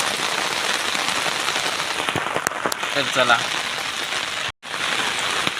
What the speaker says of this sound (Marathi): पाऊस दाखवते आता केवढं येईल भयानक मोठं येईल